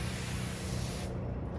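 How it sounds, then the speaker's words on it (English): A cordless electrostatic sprayer releasing a fine mist, a steady close hiss that cuts off abruptly after about a second. "With the Valamo, you're getting a much finer mist, so you're not wasting your product."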